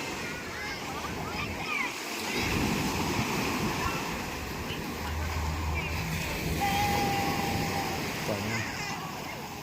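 Soft waves wash in a steady murmur along the shore, with people talking faintly in the background.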